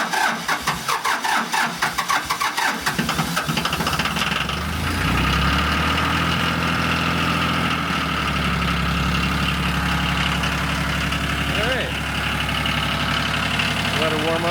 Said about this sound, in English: it's a diesel, so give her a little throttle